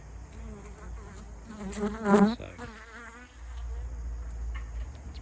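Honey bees buzz around an extra piece of hive comb, a steady insect drone with a louder close pass in the middle, under a brief spoken word.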